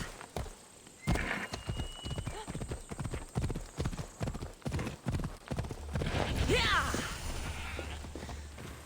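A horse in Assassin's Creed Odyssey trots up with steady, close clip-clop hoofbeats, then slows and snorts, with a whinny near the end.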